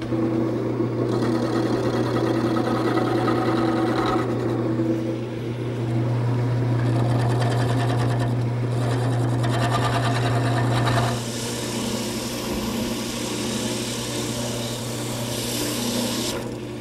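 A wooden dowel spins on a lathe for a quilt rack, giving a steady motorized whir with a low hum throughout and rising and falling cutting noise as the tool works the wood, with no voices.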